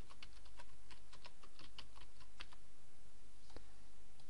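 Rapid keystrokes on a computer keyboard entering a search, irregular clicking bursts for about three seconds, close and clear, then a couple of isolated taps near the end.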